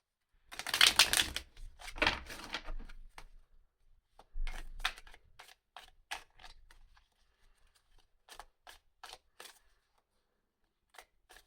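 Tarot cards shuffled and drawn close up: a dense burst of riffling card snaps, then scattered crisp taps and flicks, with quiet gaps between.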